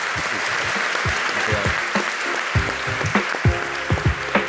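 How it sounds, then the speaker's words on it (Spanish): Applause from a conference audience at a Bitcoin economy event, dense steady clapping with occasional low thumps and murmured voices underneath. "Un aplauso"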